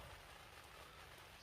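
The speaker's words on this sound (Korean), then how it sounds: "빗소리도 정겹게 들리죠." Rain falls on a plastic vinyl greenhouse as a steady, even patter with faint, soft hiss and no pauses.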